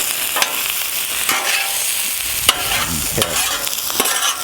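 Zucchini and hibachi-style steak sizzle steadily on a Blackstone griddle, a loud continuous hiss broken by several scraping stirs of a spatula, and one person briefly speaks.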